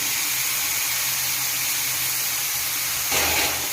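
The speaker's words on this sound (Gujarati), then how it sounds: "હવે જે આપણે કાપીને મૂક્યા હતા ગલકા એ નાખી દઈશું" Chopped ridge gourd tipped into hot, oil-releasing masala in a pan, a steady hiss of frying that jumps to a louder, fuller sizzle as the vegetable goes in near the end.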